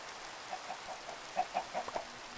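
Chickens cluck in the Minecraft SevTech modpack, with a quick run of short, soft clucks at close range over a quiet background.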